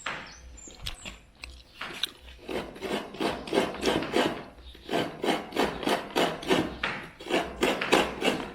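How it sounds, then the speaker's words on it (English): Coconut meat is grated by hand the old-fashioned way, making a steady run of rhythmic rasping scrapes, close and fairly soft, that speed up into an even back-and-forth rhythm. "So that is the old-fashioned way to grind out coconut meat."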